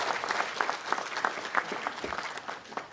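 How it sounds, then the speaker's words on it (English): An audience at a city council ceremonial meeting gives a round of applause, steady moderately quiet clapping throughout with no voices over it. "Please give him an outside round of applause."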